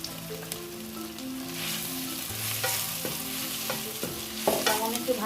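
Onion and garlic fry in hot oil with a continuous close sizzle, broken by a few scraping stirs and clinks of the spatula against the pan.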